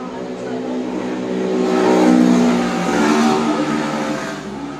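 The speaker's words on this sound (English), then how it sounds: "They have these scooters that are so dang loud." A loud scooter engine roars past on a street in Taiwan, swelling to a peak and fading slightly, with a steady droning buzz and no other sounds over it.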